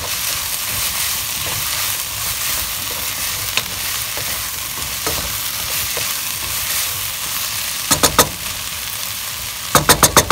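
Vegetables for chili paneer fry steadily in a pan, a continuous close sizzle and crackle with a few sharper clattering stirs near the end, no talking.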